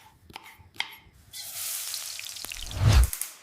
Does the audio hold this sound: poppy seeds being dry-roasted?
yes